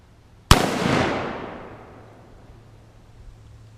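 A single sharp, loud gunshot fires a full metal jacket bullet into a block of wood in a backyard, followed by a fading rumbling echo.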